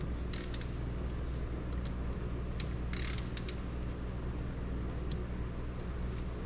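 Ratchet fitted with a spark plug socket turning on a GMC Sierra Stepside engine, with light clicking bursts over a steady low background hum.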